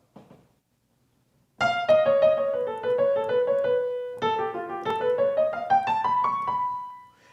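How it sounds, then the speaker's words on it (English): A piano plays an improvised melodic line of quick single notes on a whole tone scale in two phrases, rising and falling, after a brief faint sound at the start. "I'm now going to improvise using a whole tone scale"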